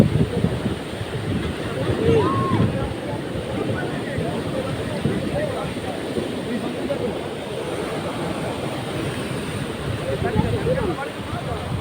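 Strong wind on the Dom islands of Sorong, loud gusty buffeting roar against the microphone with surf-like rumble, voices faintly under it.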